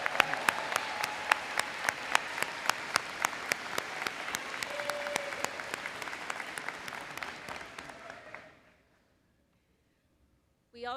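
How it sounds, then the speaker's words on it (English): Sustained applause from a college convocation audience recognizing employees, with sharp individual claps standing out over steady clapping that fades out and stops, followed by near silence. "Let's give them a big cheer."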